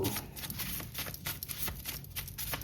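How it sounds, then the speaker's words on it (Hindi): Tarot cards being shuffled by hand at close range, a soft rapid riffling and flicking that comes in quick bursts with no talk over it. "Okay, last shuffle."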